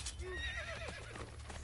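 A horse neighs in Assassin's Creed Brotherhood, a rising-and-falling whinny over a steady low game rumble, with faint hoof clip-clops under it and no talking.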